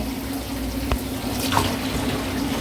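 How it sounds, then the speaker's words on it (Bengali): Water runs steadily from a tap into a sink as rice is rinsed for khichuri, a continuous close splashing wash with a brief clink near the middle. "চালটা ধুয়ে নিচ্ছি"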